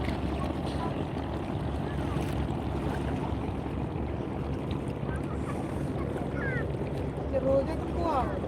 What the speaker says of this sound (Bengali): দেখেন জাহাজ যাইতেছে ছোট বড় জাহাজ